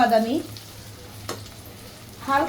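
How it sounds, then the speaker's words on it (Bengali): Onions with ginger frying in a pan for a kala bhuna curry, a steady soft sizzle running under the whole stretch with a stirring scrape near the middle, while a voice talks briefly at the start and end. "এখন আমি এটা ততক্ষণ পর্যন্ত ভাজবো যতক্ষণ পর্যন্ত পেঁয়াজটা বাদামি রঙের না হয়ে যায়"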